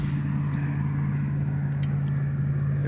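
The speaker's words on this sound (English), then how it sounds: "Here comes one more car." A car rumbles by outdoors with a steady low drone, loud and alone, with a few faint high ticks over the top.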